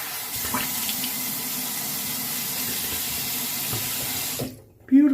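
Tap water runs steadily into a bathroom sink for a rinse after a double-edge razor shave, a continuous hiss lasting several seconds before cutting off, followed by a brief low thud.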